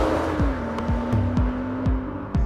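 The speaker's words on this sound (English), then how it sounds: "I think this car sounds great." BMW M240i with xDrive accelerating hard, its engine note rising and dropping through several quick upshifts in a repeating rhythm, heard from inside the car, loud and steady with no talking.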